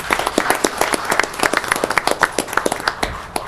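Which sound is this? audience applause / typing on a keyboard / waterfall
audience applause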